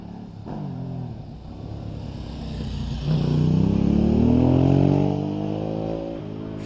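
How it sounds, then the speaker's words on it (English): A hillclimb motorcycle at Prescott accelerates hard, its engine note climbing through rising revs. It grows louder near the middle and then drops back after a gear change. "Fierce acceleration up to semicircle."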